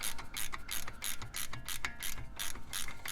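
Rapid clicking of a 3/8 ratchet with a 21 mm socket spinning Jeep Wrangler front brake bolts: quick, irregular bursts of sharp pawl clicks, close up and alone.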